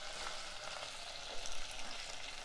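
Green chillies and thinly sliced onion frying in a pan for mamidikaya pappucharu, a soft steady sizzle with small bubbling crackles, fairly quiet and close, no voices.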